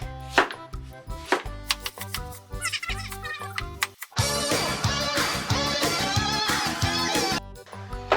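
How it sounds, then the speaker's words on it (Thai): A knife slices ingredients into rounds on a cutting board while making a lemon chicken-thigh hot pot, giving a dense run of sharp, rapid chopping taps, close and fairly loud, with a busier stretch of quick cuts in the second half. "อันนี้หั่นแว่นเฉยๆ"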